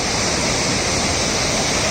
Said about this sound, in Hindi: काली नदी और गौरी गंगा का ये संगम का अद्भुत दृश्य, बहुत ही खूबसूरत